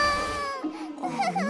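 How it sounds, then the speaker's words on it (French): A cartoon baby named Lucie cries in a short, wavering wail that breaks into whimpering sobs, close and moderately loud. "Ne pleure plus, mon bébé."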